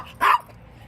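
A pet dog at a full-time RV home gives a single short, sharp bark close by, then quiet.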